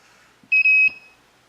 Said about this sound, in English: it does the long beep followed by the short beep, which means it's programmed successfully